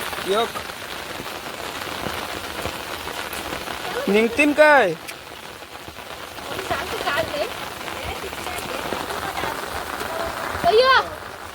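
Heavy monsoon rain falling in a field, a dense, constant patter on surfaces, broken twice by brief high calls or voices rising over the downpour.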